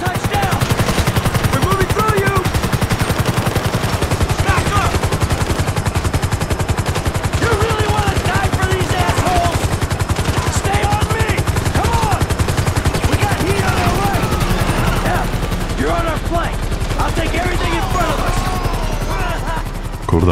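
Sustained machine-gun fire in Grand Theft Auto V rattles on densely for the whole stretch, with a helicopter's rotor drone underneath and occasional voice fragments mixed into the loud, cluttered gunfight.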